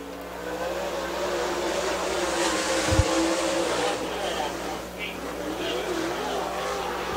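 Super late model race car, number 59, on a qualifying lap at Dixie Speedway dirt track, a steady distant engine drone running the whole time with a brief thump near the middle.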